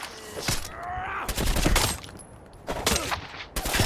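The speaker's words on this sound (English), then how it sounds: "Silver Shroud, you're shot!" Gunfire in the Fallout 4 video game: several sharp, loud shots and bursts crack out in quick succession over a few seconds, close and punchy with brief gaps between volleys.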